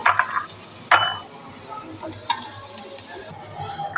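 Chutney ingredients frying in a pan: soft sizzle with a few sharp clinks and scrapes of a spoon stirring against the metal, fairly close and moderately loud, no talking.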